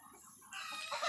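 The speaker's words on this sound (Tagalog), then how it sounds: "Marinig nyo mga tilaok nila, ayos sila tumilaok." Roosters on a Philippine farm raised as champion fighting cocks, with a crow rising in the second half, fairly close and clear over quiet background, no talk.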